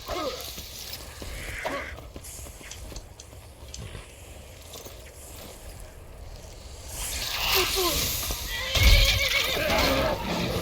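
A horse in Skyrim neighs and whinnies with clip-clopping hooves, close and loud, with a sharper burst of whinnying toward the end over some background splashing.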